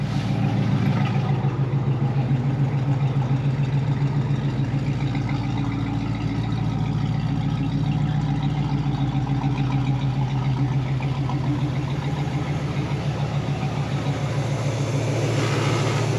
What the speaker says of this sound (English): Engine sounds good, no shaking, no rattling.